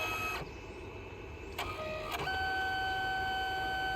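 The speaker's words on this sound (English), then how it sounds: "it's printing the colors, your RGB plus, I'm guessing black, on multiple passes" A Liene Amber color printer works through multiple passes, its single print head carriage whirring and clicking with short mechanical shifts over a steady motor hum, close by.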